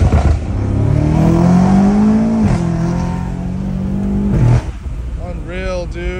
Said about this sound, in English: Downshift and once it pops.